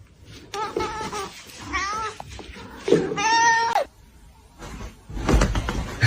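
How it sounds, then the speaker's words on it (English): A little kitten meows several times in short, high rising cries, close by, between quiet gaps and soft talk from people nearby. "Look at this little kitten."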